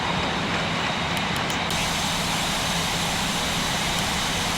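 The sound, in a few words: jet airliner taking off at Heathrow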